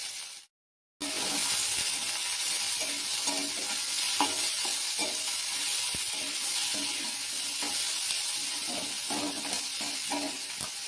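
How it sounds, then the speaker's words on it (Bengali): Whole dried red chillies and bay leaves fry in hot oil for chana tadka, a steady loud sizzle running throughout after a brief silent gap at the start, with occasional stirring clinks. "একটু ভেজে নিচ্ছি। দুটো আস্ত শুকনো লঙ্কা দিচ্ছি"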